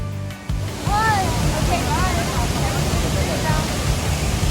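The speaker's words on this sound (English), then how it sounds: "The falls were raging." A storm-swollen waterfall roars, loud and constant, with a few faint bird chirps over it.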